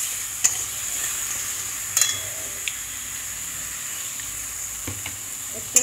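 In a Bengali kitchen, a spice paste of green and dried red chilli for a tangra fish curry sizzles softly in the pan, with faint scrapes and a few sharp spatula clinks against the metal.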